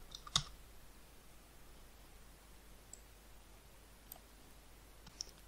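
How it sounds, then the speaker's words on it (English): A few scattered computer keyboard keystrokes while a command is typed: sharp isolated clicks, one louder cluster near the start and then sparse single taps over a quiet hiss. "We need to find its IP address by typing the following command"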